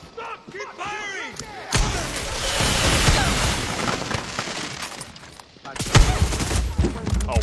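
Heavy gunfire from soldiers in Far Cry 6 rattles in loud, dense bursts through most of the stretch, with a brief lull before a final sharp volley.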